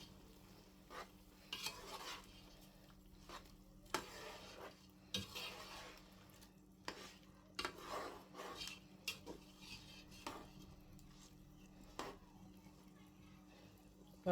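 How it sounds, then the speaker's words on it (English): Vegetable soup with crayfish and red oil stirred in a pot, with faint scraping and clinking of a spoon against the pot in irregular strokes over a low simmering hiss and steady background hum. "I'm going to add my red oil. I'm going to stir."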